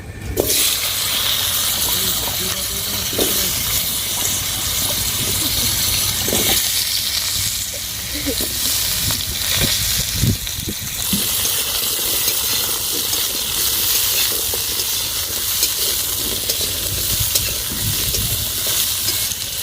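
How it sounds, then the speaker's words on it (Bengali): Whole cumin seeds, cut potatoes and papaya hit hot oil in a wok, giving a loud, continuous frying sizzle with occasional stirring scrapes throughout. "এবার ওই কড়াইতে ওই তেলেই গোটা জিরে ফোড়ন দিয়ে দেব এবার কেটে রাখা আলু পেঁপেগুলো দিয়ে দেবো"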